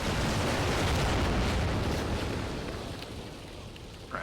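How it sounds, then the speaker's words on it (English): In Empire: Total War, grenades burst against fortress walls in a heavy, rumbling explosion that booms loudly at first and then fades into a diminishing roar. "If you guys could lob some grenades up on the walls, that'd be very nice indeed."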